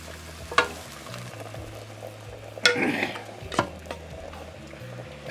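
Sausage stirred into a pot of red beans on the stove, heard as a few scraping stirs and soft clunks of a spoon against the pan, with a low steady hum beneath and no talking.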